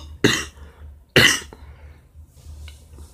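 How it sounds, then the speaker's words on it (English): Two harsh, wet coughs from a person with a bad cough, close and loud, roughly a second apart, followed by a quieter throat sound and faint background noise. "this cough is bad, but it's been like this"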